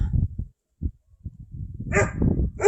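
Several dogs bark in short, uneven bursts at a farm tractor going by, loud and close, with pauses between volleys and a denser run of barks toward the end.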